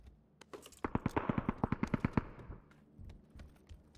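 Rapid bursts of automatic gunfire from the video game PUBG, a fast run of sharp evenly spaced shots near and loud, then a few scattered single shots trailing off.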